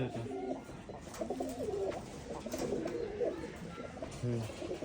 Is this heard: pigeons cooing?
yes